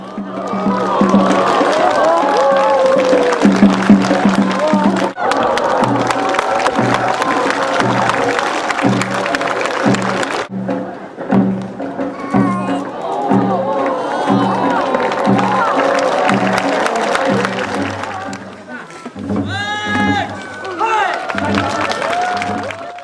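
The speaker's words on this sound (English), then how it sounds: "causing worried screams from the crowd" Crowd at a Korean folk village tightrope performance reacts with screams and cheers as the performer hops on the rope, over loud drumming and festival music with a strong beat and babbling voices throughout.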